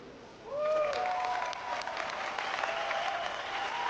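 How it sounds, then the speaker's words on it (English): A crowd at a boxing match between Todorov and Bejenaru breaks into sustained applause, clapping swelling in after half a second and continuing steadily with a few whistles on top. "Big applause for both fighters, for Todorov and Bejenaru."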